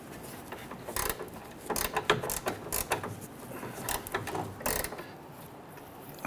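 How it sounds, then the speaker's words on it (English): A 14mm swivel head gear wrench ratcheting on a rear sway bar link of a 2006-2014 Honda Ridgeline, giving bursts of fast metallic clicking close by, pausing between strokes. "We're using a swivel head gear wrench right here."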